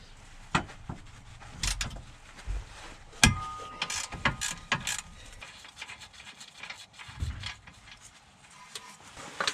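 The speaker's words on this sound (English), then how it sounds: "Undo this caliper mounting bracket by taking our 17mm socket and undoing" Ratchet wrench with a 17mm socket loosening the caliper mounting bracket bolts on the rear driver side of a 9th-generation Honda Accord, giving bursts of metallic clicking and clunks with scraping, close and moderately loud, no talking.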